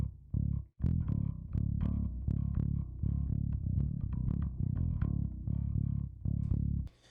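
A bass guitar on a direct-input signal for a metal mix plays a clean, steady run of picked notes, tight and even in level, with a brief gap near the start and a fade at the end.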